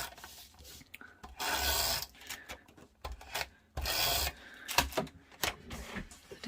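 Scrapbook paper edge trimmed with a sliding paper trimmer, two sustained rasping strokes about a second long each, with light taps and clicks between them, close and fairly loud, no voices.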